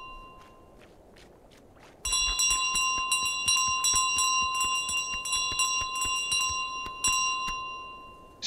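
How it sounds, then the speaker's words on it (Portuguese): A bell rings in Untitled Goose Game, bright metallic chimes ringing out and sustaining from about two seconds on, preceded by light footstep-like ticks, with no voices. "Toca o sino!"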